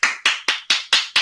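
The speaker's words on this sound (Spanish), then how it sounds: "Pedimos un fuerte aplauso para el doctor Nizama" Six evenly spaced sharp claps ring out one after another, close and loud, after a talk on mental health during the COVID-19 pandemic; no voices underneath.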